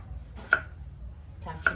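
A knife chops through pumpkin being cut up for Thai pumpkin in coconut milk dessert, giving two crisp, close blade strikes about a second apart against a board, with no talking.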